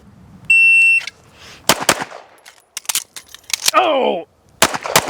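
Sharp pistol shots crack out in spaced pairs during a reload drill at a shooting range, with a shot timer beep at the start and a person briefly exclaiming between shots.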